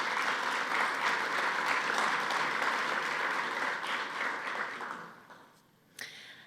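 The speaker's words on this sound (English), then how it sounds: "Let's give them a round of applause." Audience applause at an evening event about schools and artificial intelligence, a steady dense clapping from a crowd that fades out after about five seconds, ending with a single faint knock.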